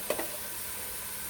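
Onion paste sizzles in hot oil with added salt for a taro root and chicken curry, a brief stir clatter at the start giving way to a soft, steady frying hiss.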